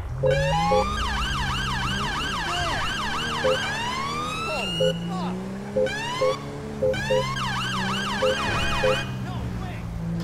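A police siren in a video game wails and yelps in repeating sweeps over a steady engine hum, with short electronic beeps scattered throughout, loud and close.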